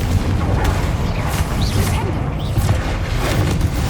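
Spell combat in the video game Hogwarts Legacy, with dense, loud blasts and impacts from the Confringo fire spell running through a busy battle mix, short whooshing casts layered over a constant low rumble.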